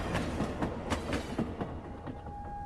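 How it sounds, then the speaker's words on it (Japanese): A subway train in the horror game Station 5 runs at speed, with a steady rumbling roll broken by regular clickety-clack wheel beats, and a thin high squeal creeping in near the end. "お、この電車、めっちゃ速いね。"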